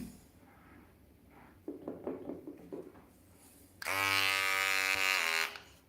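Electric hair clippers switch on partway through, a loud, close, steady buzz lasting a couple of seconds after some quieter handling sounds and clatter.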